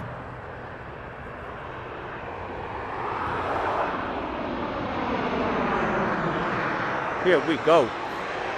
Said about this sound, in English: And I'm about to take off right now. It's going to be Southwest Flight SWA 353 heading over to my turf